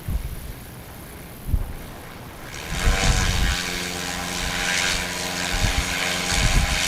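A STOL airplane at a Pony Express competition in St. Joseph, Missouri opens its throttle for takeoff, the engine and propeller swelling from a quiet idle into a loud, steady droning roar with wind buffeting the microphone.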